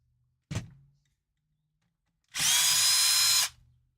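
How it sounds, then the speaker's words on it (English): Power drill backing screws out of a brace: a single sharp thunk, then after a pause one loud, close whirring burst of the drill lasting about a second, with no talk. "Yeah, I got to take all these screws off."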